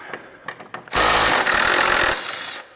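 A power tool works loose rusty bolts on a 1990-98 Mitsubishi Minicab truck during a lift install, with a loud sustained whir for about a second after a few light clanks, then quieter handling noises.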